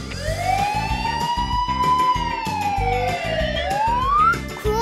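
A police car siren wails loudly and continuously, with rising and falling tones sweeping over a pulsing backing rhythm.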